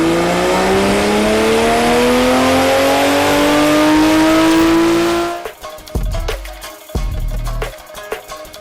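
Toyota Supra 3.0 engine revving hard, its pitch climbing steadily for about five seconds before cutting off, followed by a few sharp blips and pops as it falls back, loud and close.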